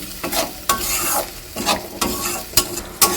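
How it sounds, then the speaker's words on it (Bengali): Spice paste moistened with a little water is stirred in a hot pan for an egg curry: a series of scraping strokes, about one every half second, over a continuous sizzle, with no voices. "জল দিয়ে মশলা কষালে মশলাটা কিন্তু খুব সুন্দর কষানো হয়"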